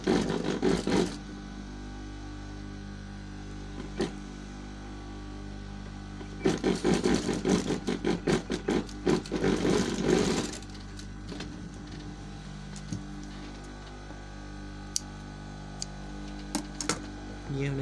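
A sewing machine stitching cloth for a Chinese collar runs in short rapid bursts, a brief one at the start and a longer rattling run in the middle, with quiet clicks and pauses in between.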